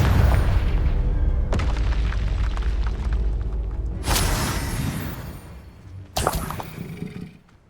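Confringo and Bombarda spells exploding in Hogwarts Legacy, loud booming blasts with a heavy low rumble, two sharp bursts standing out after an ongoing roar, with no talking.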